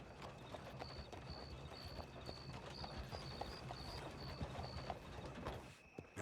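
In Red Dead Redemption 2, a horse's hooves clip-clop steadily at a walking pace and fairly close, with a faint repeating tone running under it and no clear talking.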